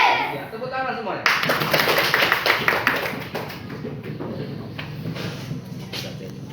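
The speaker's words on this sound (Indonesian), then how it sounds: "Ya, tepuk tangan semuanya." Schoolchildren in an Indonesian madrasah classroom clap their hands together, a burst of dense rhythmic clapping starting loudly then thinning into scattered claps, with voices heard over it.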